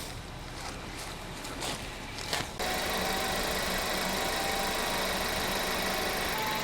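An oil-burning car engine is held at about 1200 RPM with its throttle wedged open, giving a steady mechanical drone. A few clunks and a shift in tone come before the hum settles into an even, continuous note.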